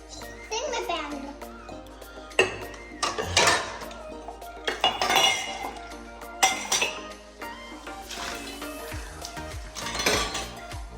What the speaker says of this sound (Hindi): ओए बर्तन धो रही हो?